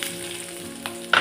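Red onions sautéing in hot oil with dried red chillies and popped mustard seeds, a steady close sizzle with small crackles and a brighter burst of spitting near the end.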